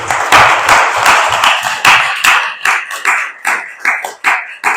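Applause from an audience at a presidential fireside chat with the Honorable Jose Linares, a dense burst of clapping that starts loud, then thins into fewer, separate claps as it fades.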